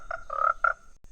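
A pet ghost frog croaks three times in close succession, loud and near, then falls silent.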